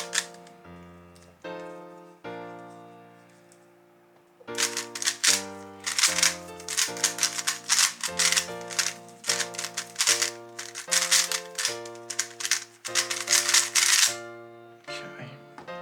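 A MoYu WeiLong V10 speedcube being turned during a solve makes rapid, dense bursts of plastic clicking and clacking, heard over melodic background music after a quieter opening.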